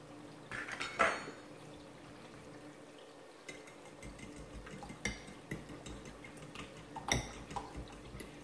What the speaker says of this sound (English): Using a fork to beat eggs is the easiest way